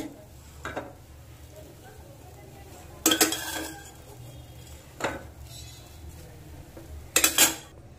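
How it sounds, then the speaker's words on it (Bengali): A metal spoon stirs rice into boiling milk in a pot for Bengali payesh, giving a few sharp scraping clinks against the pot between quieter bubbling, close and intermittent. "তো চালটা দেওয়ার পরে সাথে সাথে ভালো করে নাড়তে হবে"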